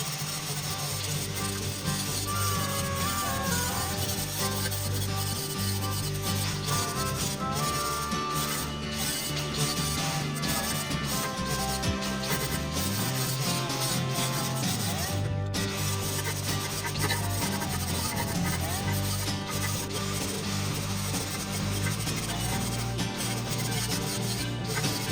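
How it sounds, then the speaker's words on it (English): A flap disc on an angle grinder smooths a steel weld on a 3/8-inch thick rectangular tube spare tire carrier for a Unimog, a loud continuous abrasive rubbing whine running unbroken throughout. "now we're gonna put the flap disc on there, smooth this out"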